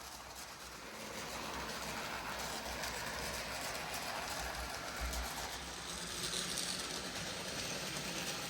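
An N scale Athearn Amtrak F59PHI model locomotive runs with a gear noise problem. A steady, faint mechanical whir and rattle continues throughout with a slight swell near the end, and no voices.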